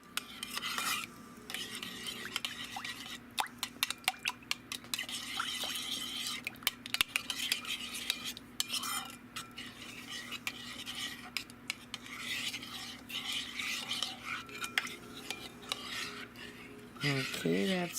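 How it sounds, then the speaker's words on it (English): A metal spoon stirs a sandwich mixture of dehydrated ingredients in a bowl, with repeated close clinks and scrapes against the bowl and soft wet mixing sounds in between. "I'm going to grab a spoon and we're going to mix this all up"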